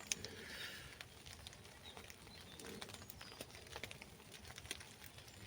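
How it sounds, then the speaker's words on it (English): Rain patters steadily and densely on a tent or tarp at a very wet winter woodland camp, soft and close, with faint bird calls in the background. "I love hearing the sound of rain on my tent or tarp."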